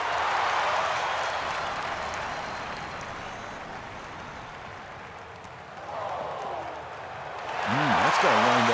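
Crowd applause in a PGA Tour golf video game's final round at Scottsdale: a soft, steady wash of clapping that dips in the middle and swells again near the end, with a voice briefly heard at the close.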